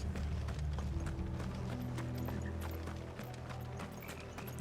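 Rhythmic clip-clop of horse hooves trotting steadily in Final Fantasy 16, with a faint tonal game-style background hum, no voices.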